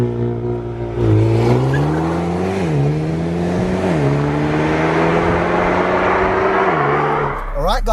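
A tuned four-wheel-drive Mercedes A35 AMG engine runs loud and close, holding a steady drone with a few quick rises and dips in revs before a brief burst at the end.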